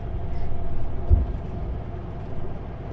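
Steady road roar from a truck comes through an open sleeper bunk window, a continuous low rumble and wind wash with no distinct events, moderately loud and close.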